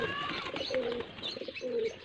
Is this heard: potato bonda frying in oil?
no